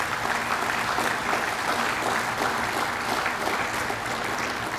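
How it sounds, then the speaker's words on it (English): An audience at a celebration-of-life memorial event applauds, a thick, sustained roar of many hands clapping at once, steady and unbroken for about five seconds. "Please give those people a round of applause."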